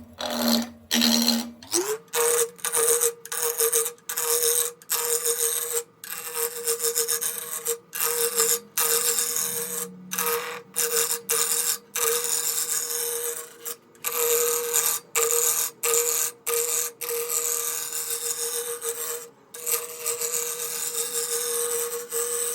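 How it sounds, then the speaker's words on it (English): A wood lathe spins at just over 1200 RPM as a roughing gouge shapes a baby rattle blank into a cylinder, giving a loud, close, rasping cut broken by frequent brief pauses. "use rough and gouge, get this turned into a cylinder, get a tenon turned on the bottom of this. I'm going to be turning about just over 1200 RPMs."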